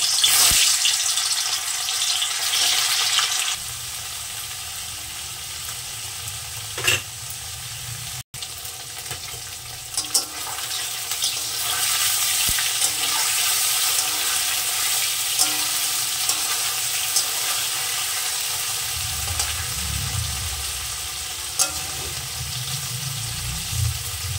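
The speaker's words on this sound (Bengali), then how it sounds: "আমার তেলটা গরম হয়ে গেছে। আমি প্রথমে পনিরটা ভেজে নেব।" Paneer fries in hot oil in a kadhai for aloo paneer dalna, giving a steady, close sizzle that crackles on without a break. No voices are heard over it.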